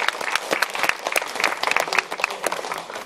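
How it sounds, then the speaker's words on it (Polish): An audience applauds at an awards summary event, a burst of lively, uneven clapping from a small crowd, close and fairly loud, lasting a few seconds. "Justyna i Paulina Rosłon, wielkie brawa, najwyższa frekwencja."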